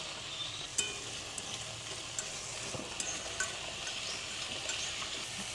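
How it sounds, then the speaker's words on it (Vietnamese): Button mushrooms stir-fried in a pan for a Vietnamese red-wine beef stew, a steady close sizzle with scattered clicks and scrapes of stirring, no voices. "Nấm mỡ này thì mình cũng sẽ xào sơ luôn."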